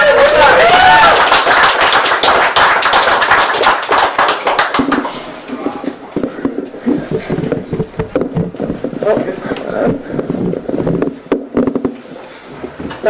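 Enthusiastic audience applause and cheering fills a Limerick bar at a poetry night, loud at first and then thinning into scattered claps as a voice begins speaking over it.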